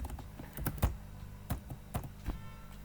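A handful of distinct keystrokes on a computer keyboard, close and moderately soft, spaced irregularly with no talk.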